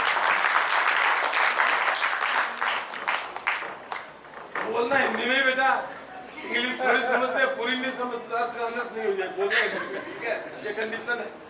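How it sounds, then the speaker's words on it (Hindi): An audience at an open mic event claps loudly as a guest is welcomed, a dense wave of close applause that fades and gives way to someone speaking. "तालियों से स्वागत करेंगे, बस जोरदार तालियों।"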